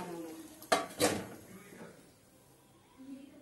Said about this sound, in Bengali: তো এটাকে আমি এখন ঢাকা দিয়ে রাখবো কিছুক্ষণ